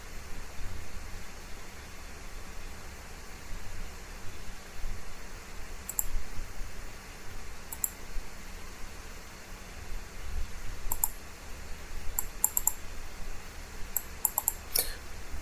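A computer mouse clicks sparsely during an MS Office 2020 download, each single sharp click spaced seconds apart over a quiet background hiss.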